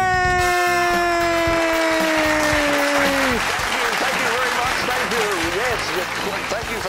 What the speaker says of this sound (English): completely unrehearsed and very sincere burst of totally synthetic applause